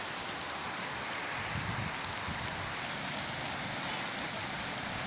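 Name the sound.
heavy rain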